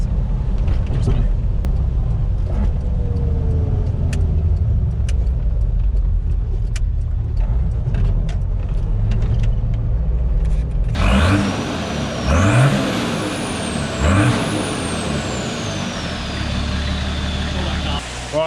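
A Toyota GQ 4WD drives along with its engine running steadily, the drone rising and falling through gear changes; a louder passing or accelerating stretch with whining tones comes in the second half.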